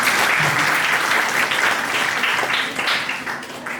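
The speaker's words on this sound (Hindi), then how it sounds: "ताली बजाएं।" An audience at an entrepreneurship session applauds, a dense, steady burst of clapping from many hands that fades somewhat toward the end.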